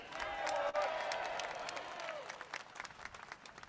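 Rally crowd at a Sydney public sector union demonstration cheering and applauding for national parks staff, a loud, dense wash of clapping and shouts that swells early then thins toward the end.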